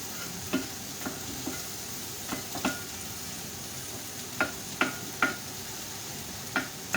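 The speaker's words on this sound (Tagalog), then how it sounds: "So we need to saute first sa onion, sibuyas." Onion sautés in a home kitchen pan, a soft steady sizzle running throughout with scattered sharp clinks and scrapes from stirring at irregular intervals.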